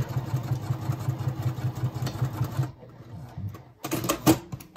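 Sewing machine stitching a zipper onto fabric for a scrunchie, a rapid, even mechanical chatter for about two seconds, a short pause, then another brief burst, close and fairly quiet.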